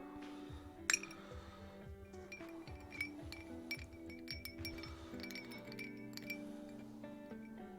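Ice cubes clink against a glass of bourbon: a few light, sharp, close taps and rattles in an otherwise quiet setting.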